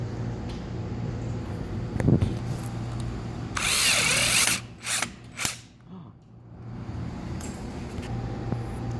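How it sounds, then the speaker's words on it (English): A power drill drives a screw into a wheelchair seat, starting with low background rumble, then a sharp burst of high whirring followed by a few short clicks and pops as it goes too far, with the room quieting afterward. "That's because we went a little too far on the drill."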